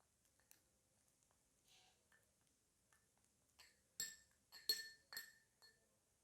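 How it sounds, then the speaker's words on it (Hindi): A spoon clinks against a glass bowl while rose water and other ingredients are stirred together: quiet at first, then several sharp, close clinks and scrapes in quick succession near the end. "और अब इसको अच्छी तरह से मिक्स कर लेंगे।"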